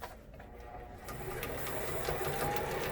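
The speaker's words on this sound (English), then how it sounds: "We're going to start sewing." Sewing machine stitching a reusable fabric face mask, a steady close mechanical whir that starts quietly and grows louder and fuller after the first second, running continuously.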